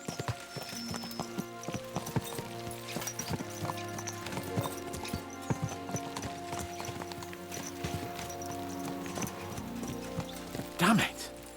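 Horses clip-clop at a steady trot through the whole stretch, hooves knocking in a regular rhythm under a music-like tonal bed with voices, ending in a brief louder whinny-like burst near the close.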